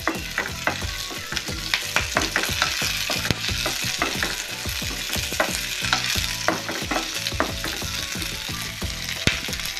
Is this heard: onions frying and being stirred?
yes